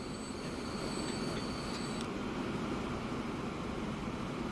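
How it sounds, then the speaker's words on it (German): Freight trains rolling in Transport Fever 2, a continuous rumble of wheels on track with a thin high squeal early on, heard alone. "Das sind natürlich die Güterzüge."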